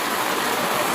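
Heavy rain pours down in a dense, even hiss, loud and close, filling the whole second without a break.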